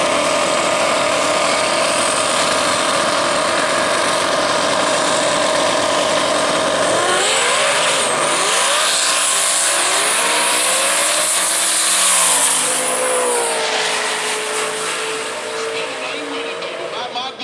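Chevy drag race cars launch down the strip at Worldwide Technology Raceway with a loud, sustained engine roar that rises and sweeps in pitch through the run, then eases off near the end.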